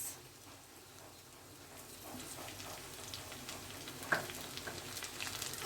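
Chili frying in a pan for spicy pasta, a faint, soft sizzle close by with light crackles and a small pop, growing slightly louder toward the end.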